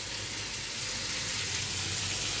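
Potatoes frying in a pan in a home kitchen, a steady soft sizzle running continuously at moderate level with no voices.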